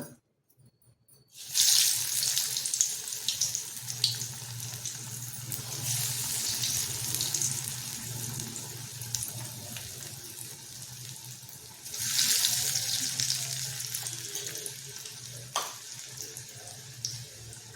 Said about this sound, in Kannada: ಈಗ ಎಣ್ಣೆ ಕಾದಿದೆ ಒಂದೊಂದೇ ಹಾಕೋಣ